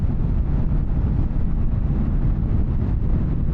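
Wind roars past a rider on a 2024 Triumph Bonneville Bobber motorcycle with no wind protection. A loud, dense, low buffeting rumble runs continuously throughout.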